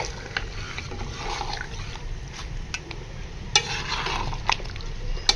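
Beef karahi with yogurt being stir-fried in a wok makes a steady low sizzle, with the spatula giving light scraping and clinking taps against the metal at irregular intervals, and no one speaks.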